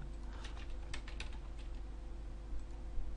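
Rapid keystrokes on a computer keyboard while Java code is entered, an irregular run of close, fairly quiet clicks with a steady hum beneath.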